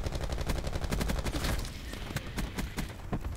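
Rapid automatic fire from the VAPR-XKG rifle in Black Ops 4: a dense burst of close, loud shots in quick rhythm, then a few slower, separated shots trailing off.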